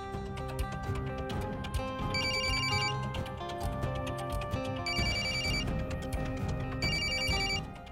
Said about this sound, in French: Prends ton téléphone, Rachna.